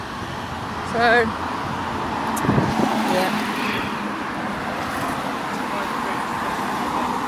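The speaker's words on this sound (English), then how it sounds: "Sorry about the traffic noise" Steady road traffic noise fills a city street in Oxford, a constant wash of passing cars and buses with a brief louder swell early on, while someone speaks briefly close to the microphone.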